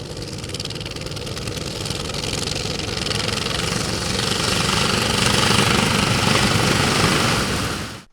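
Tractor engines roar at a traditional tractor speed-racing competition, a loud continuous rattling chug that builds steadily in intensity before cutting off abruptly at the end.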